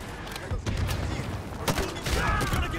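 Gunfire in Modern Warfare 2 Remastered: scattered sharp shots and bursts cracking out at moderate distance over a rumbling battlefield bed, with a voice speaking briefly amid it.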